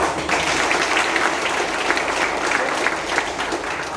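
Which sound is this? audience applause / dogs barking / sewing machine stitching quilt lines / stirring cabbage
audience applause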